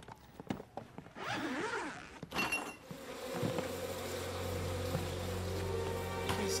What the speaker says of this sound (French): Abeilles et guêpes. Des guêpes et des abeilles.